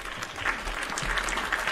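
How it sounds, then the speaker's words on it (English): A brief burst of crowd applause plays as a sound effect during a live-streamed Realm Royale match, steady and fairly quiet throughout. "give me an applause"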